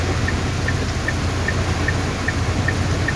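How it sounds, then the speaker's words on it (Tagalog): Steady, dense rain pours down in a constant wash, with regular faint dripping ticks over the top. "Malakas talaga yung ulan."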